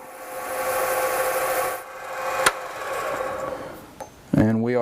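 Sandpaper of 600 grit rubs against an acrylic pen blank spinning on a lathe, giving a steady, close hiss that pauses briefly with a sharp tap before ending in a burst of other noise.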